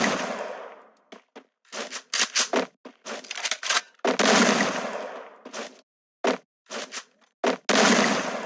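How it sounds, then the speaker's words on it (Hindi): Bursts of gunfire in the game Free Fire, fired into the air, crack out in short volleys separated by brief pauses, loud and sharp, some single shots and some rapid strings. "तो मैं हवा में गोली चलाने लगता हूँ।"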